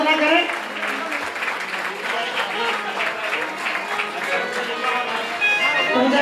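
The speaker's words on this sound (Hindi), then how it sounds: "मैं सभी से ये निवेदन करूंगा जोरदार तालियां बजाएं" Loud, sustained clapping from a crowd at a Jain temple gathering during an evening aarti of lamps, with voices mixed into the steady applause.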